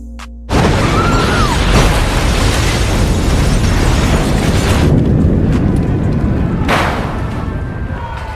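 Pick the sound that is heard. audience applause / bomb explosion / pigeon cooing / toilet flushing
bomb explosion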